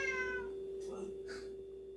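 A cat gives a few short meows, fairly faint and close, over a steady background hum.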